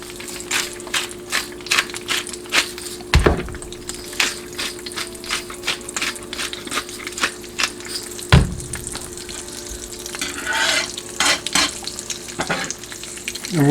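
Low, uneven crackle of an egg frying over gentle heat in a cast iron pan, with scattered pops and scrapes and a few louder knocks, close and without talk.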